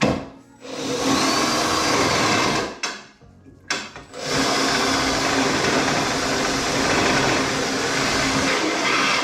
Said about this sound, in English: I would take self-tapping screws and drill them in.